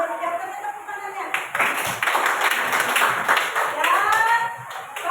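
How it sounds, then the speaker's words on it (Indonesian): A group of children claps for a classmate named Leo, a burst of brisk, overlapping hand claps that starts suddenly and carries on for a few seconds, with a voice speaking over and around it. "Terima kasih Leo sudah memberikan tepuk tangannya."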